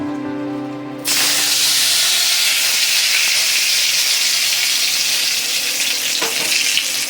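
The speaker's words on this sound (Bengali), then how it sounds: "তেল গরমটা হয়ে গেছে, এখন আমি তেজপাতাগুলি দিয়ে দেব।" Bay leaves and dried chillies hit hot oil in a pan, setting off a sudden loud, steady hissing sizzle that holds for several seconds after a brief tonal hum at the start.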